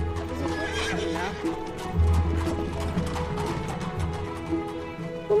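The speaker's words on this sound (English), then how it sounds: "there's a horse coming now." A horse draws near on a street in Oxford, its hooves clip-clopping in a steady rhythm while it gives a loud neigh partway through, with a person's voice speaking over the scene.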